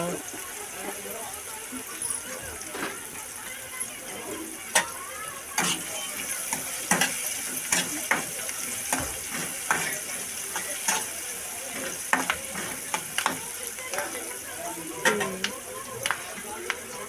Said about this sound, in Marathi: हे आता सोबत कडत्यात मस्त.